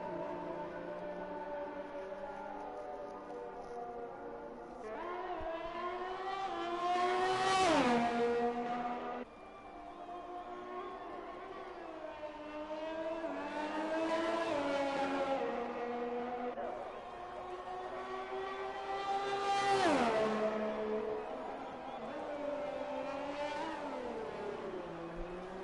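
Race car engines on a lap in a PS4 racing game rev up and down in repeated rising whines, with upshifts and passing surges, under continuous commentary talk.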